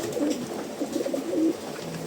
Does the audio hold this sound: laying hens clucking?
no